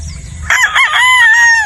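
A game fowl stag of Sweater Boston bloodline crows once at close range, a loud drawn-out cock-a-doodle-doo rising after a brief low rumble.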